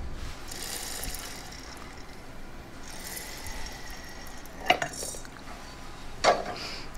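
Roasted black urad dal being put into a mixer jar, with light rustling and two distinct rattling clatters against the jar's hard surface, and no voices.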